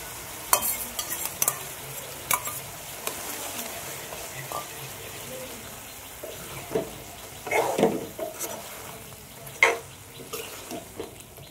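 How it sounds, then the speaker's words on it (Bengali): Chicken with sour yogurt being stirred and sautéed in a pan, village style: a low, soft sizzle with scattered scrapes and knocks of a spoon at intervals, fairly quiet throughout. "এটাকে আমি ভালো করে তাহলে কষতে থাকবো"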